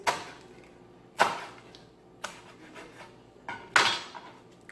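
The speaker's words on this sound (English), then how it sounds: "We're going to chop our greens." A knife chops collard greens on a board with a few sharp, separate knocks at uneven intervals, each followed by a short rustle.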